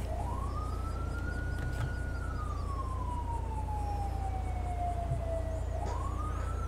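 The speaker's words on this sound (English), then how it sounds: "I'm hearing a siren. It's probably an ambulance." An ambulance siren in the video game GTA 5 rises, sweeps slowly down, then climbs again, steady and moderately loud over a constant low rumble.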